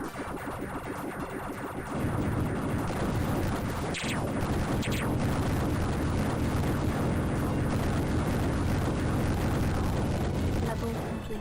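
Explosions and gunfire rumble through the Tyrian space-shooter video game, a dense, loud crackling blast layered over continuous game music with sweeping tonal effects and a voice line near the end.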